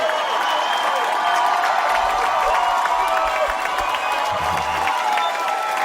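A large podcast studio crowd roars and applauds steadily, with rhythmic chanting of a name swelling underneath in the middle; a dense, continuous wash of cheering.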